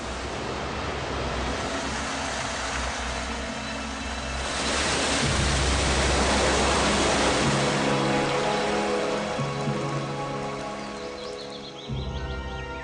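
Rain pours down in a steady, dense hiss that swells louder midway, rushing like cascading water, with sustained tonal sounds running beneath it and no voices.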